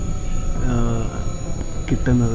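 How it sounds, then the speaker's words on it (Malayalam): Train running from Freilassing to Berchtesgaden in the Bavarian Alps gives a steady rolling rumble with squealing wheel tones, and a person talks briefly over the continuous noise. "ഒരു അതിമനോഹരമായിട്ടുള്ളൊരു ട്രെയിൻ യാത്രയാണ് ഈ ഫ്രൈലാസിങ്ങിൽ നിന്ന്"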